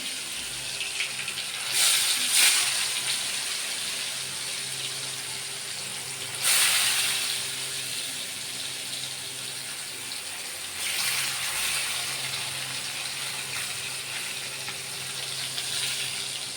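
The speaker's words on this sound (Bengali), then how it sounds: "এই আমি ভেটকি মাছ ভাজতে দিয়ে দিলাম" Bhetki fish frying in a pan gives a steady, even sizzle throughout, with a few brief louder bursts of spitting oil; no voices.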